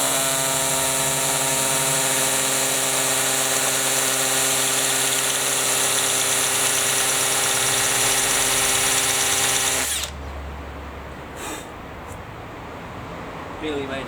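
A hammer drill with a 12mm bit runs on low speed, a loud steady whining hammering drone for about ten seconds, then cuts off and leaves a quiet room with faint small sounds.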